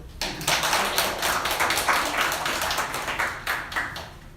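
Applause for the artist at a solo exhibition opening in a gallery: steady, dense clapping from a crowd of guests, fairly close and continuous, with a few louder individual claps near the end.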